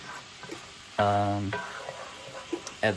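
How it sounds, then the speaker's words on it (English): Beef stock sauce built on a flour-and-oil roux reducing in a frying pan, a loud steady sizzle that swells for about half a second then settles, with faint stirring clatter and a few soft clinks around it. "this is reducing to like a nice thick consistency"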